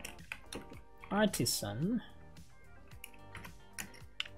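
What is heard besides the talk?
typing on a computer keyboard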